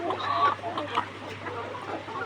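Laying hens at a nest box cluck in short, close, uneven bursts over a low steady background hum.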